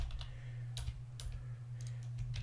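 Keyboard keys clicked in quick irregular bursts as a web address is typed on a computer keyboard, close and fairly quiet over a steady low hum.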